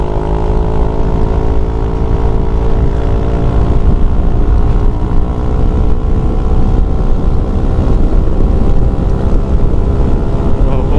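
A bored-up Yamaha NMAX scooter engine drones steadily at speed on a test ride along a straight road, a loud, constant hum with heavy wind buffeting the microphone throughout.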